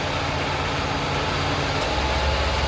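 A 1949 Buick Super Sedanette sits idling with its engine running smoothly while the air conditioning runs, a steady, even low rumble heard close and alone with no talking.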